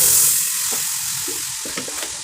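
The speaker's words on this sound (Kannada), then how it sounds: "ನುಗ್ಗೆಕಾಯಿಯನ್ನು ಹಾಕಿ ಸ್ವಲ್ಪ ಫ್ರೈ ಮಾಡ್ಕೊಳ್ಳಿ" Drumstick pieces sizzle in a hot pan while being fried for sambar, a bright steady hiss with a few soft stirring scrapes, close and alone without any voices.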